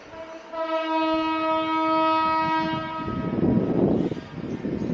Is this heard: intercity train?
yes